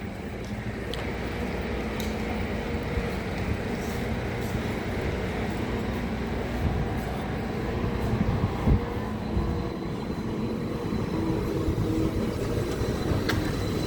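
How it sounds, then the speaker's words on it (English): Steady, busy ambience at the Edgware bus station in London: a continuous low rumble of idling and moving buses and traffic with a dense background hum, occasional faint knocks and clatters, no clear speech. "Busy bus station, this."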